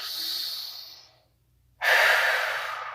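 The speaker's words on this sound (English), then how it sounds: "Take an inhale. Exhale." A person doing yoga breathes out in a long, close breath that fades to near silence, then draws a sharp, loud inhale through the nose. Nothing else is heard.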